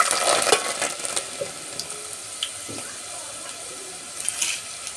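Garlic cloves hitting hot oil with mustard seeds, a bright crackling sizzle that bursts loudly at the start, settles into a softer hiss with small pops, then flares again near the end.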